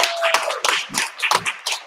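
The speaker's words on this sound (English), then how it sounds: "Round of applause for Sharon Bigelow." A small business-mixer audience gives a brief round of clapping in uneven bursts, close and fairly loud, fading and swelling over a couple of seconds.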